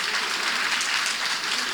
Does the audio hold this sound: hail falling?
no